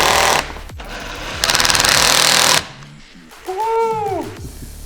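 A power drill driving the final screws into a truck camper, two loud buzzing bursts of whirring with a pause between, followed by a short wavering high-pitched sound at the end.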